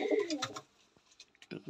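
A couple of soft coos from pigeons in a loft sound close by while their wing feathers are being pulled, followed by brief, quieter rustling and a few short low calls near the end.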